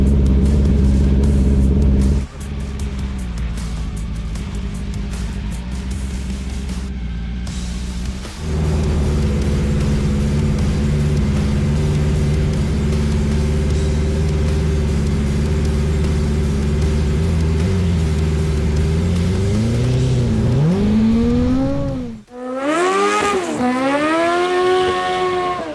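A street-legal land speed motorcycle launches and accelerates hard, its engine howling steadily and rising in pitch through long gears, with a brief dip at a shift before screaming up again, loud and close throughout.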